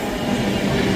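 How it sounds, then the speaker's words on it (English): A delayed Avanti West Coast train from London Euston pulls into Edinburgh Haymarket, a brief, steady rumble of rolling wheels and carriage noise, close and fairly loud, with no talking. "Arriving in now is the delayed 1214 Scotrail Avanti West Coast service from London Euston to Edinburgh Waverley"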